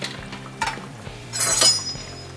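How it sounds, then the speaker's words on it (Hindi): Halved bati dough balls dropped into hot oil, a close hiss and bubbling swell around the middle, with clinks of a utensil against the pan and no talking. "मैं तो ऑयल में तल रही हूँ।"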